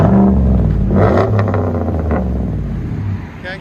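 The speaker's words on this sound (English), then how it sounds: "Nice GMC Denali. Nice deep rumble." A 2016 GMC Sierra Denali pickup with a 6.2L V8 and straight-pipe dual exhaust, 2.5-inch system with 4-inch tips, gives a loud, deep, steady rumble with a short rev swell partway through.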